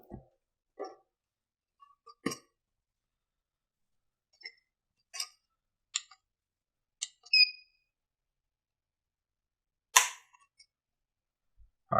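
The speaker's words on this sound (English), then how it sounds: "Let's go ahead and test that trigger pull." Sharp isolated clicks and snaps as a RISE Armament RA-140 Super Sporting trigger is pulled in a test jig, about a dozen dry mechanical pops spaced irregularly over near silence.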